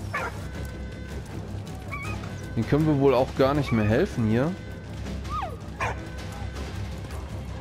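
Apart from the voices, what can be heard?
dog whimpering in the video game Valiant Hearts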